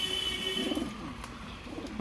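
A recovering pigeon in a loft gives soft low cooing, a few gentle rising notes over a faint steady background hum.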